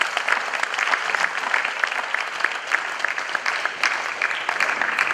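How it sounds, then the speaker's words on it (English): Steady, moderately loud applause from an audience honoring artists at an art award ceremony, a dense patter of many hands clapping continuously without pause. "just use the God-created instrument in your hand and let's applaud them"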